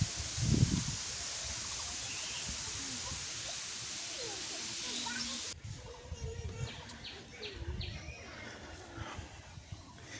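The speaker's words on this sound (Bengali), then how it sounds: "বাতাস আছে, একটু হালকা পাতলা বাতাস আছে।" Light wind blows through leaves in a village outdoors, a soft steady rustle with faint bird calls and brief low rumbles, a little quieter in the second half.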